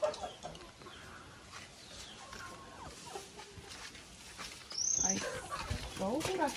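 Chickens cluck and murmur around a rural smallholding, soft bird calls scattered over outdoor background noise, with a brief sharp higher call partway through.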